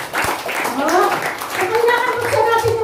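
A church congregation claps during a worship service, a steady patter of many hands running under a preacher's loud, continuous talking.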